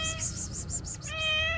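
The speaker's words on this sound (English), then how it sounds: "I can see a huge cat." A large street cat in Tigre, Argentina gives two close, clear meows, one short and one drawn out, with faint outdoor background around them.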